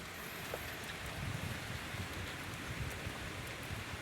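Steady rain falls outdoors at a rocky site, a dense continuous hiss with a little wind rumble and no voices.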